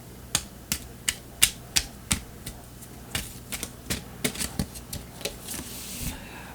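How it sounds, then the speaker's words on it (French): Tarot cards being shuffled and drawn, a series of crisp close card snaps and flicks in a fairly regular rhythm, about a dozen distinct taps ending in a softer sliding rustle, with no talking. "on va tirer une carte comme ça"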